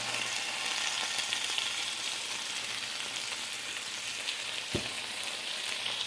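Potatoes fry in a pan for breakfast hash browns, making a constant moderate sizzle throughout with one brief knock partway through and no talk.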